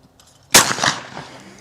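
A single loud shotgun blast at a clay pigeon ball trap range, a sharp close report with a short ringing decay afterward and no voices.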